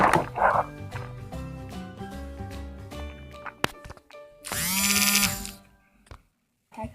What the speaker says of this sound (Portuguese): Liguem para os latidos da minha cachorra.